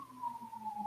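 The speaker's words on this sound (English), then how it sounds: "I apologize for any sirens you might hear" An emergency siren in New York City, a faint, distant wailing tone that slides slowly downward, heard briefly and alone.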